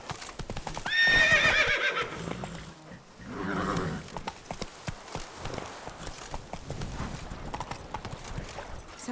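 A horse in The Witcher 3 gallops with steady clip-clop hoofbeats and a loud whinny near the start, all under continuous game music and ambience.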